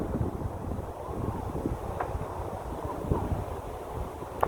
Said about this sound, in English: It's a little breezy out here.